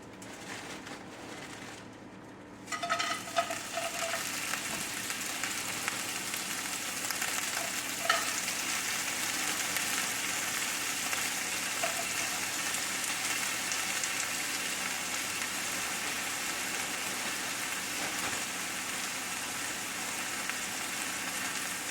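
Frozen onions frying in a pan, a soft lid or handling clatter at first, then a continuous steady sizzle and crackle that carries on evenly, moderately close and fairly quiet.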